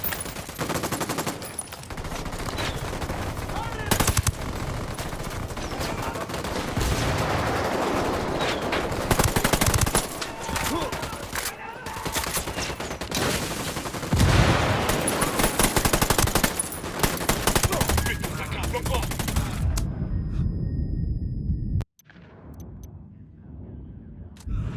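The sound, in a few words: gunfire in video game Ghost Recon Wildlands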